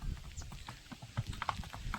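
A mare called Manek walks along, her hooves sounding a quick, uneven clip-clop that is close and moderately loud, with no talking.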